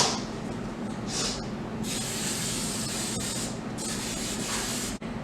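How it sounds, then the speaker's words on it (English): Several hissing bursts from an aerosol can of cooking spray onto a pan, close up, in short and longer sprays with brief pauses between them. "So I'm going to spray my pan with some cooking spray."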